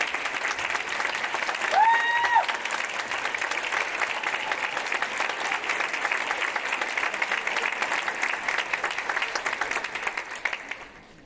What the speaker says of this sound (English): please stand for us and take yet another clap of appreciation